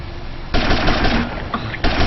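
Rapid automatic gunfire from the video game GTA Vice City rattles out in loud, dense bursts with a short pause before a final burst, with no talking.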